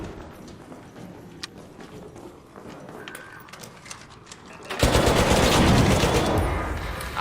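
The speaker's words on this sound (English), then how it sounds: "Fucking turret ended my crazy sprint back." A turret in Arc Raiders opens fire: scattered sharp shots crackle through the first seconds, then a sudden loud, sustained burst of rapid automatic fire takes over and keeps roaring to the end.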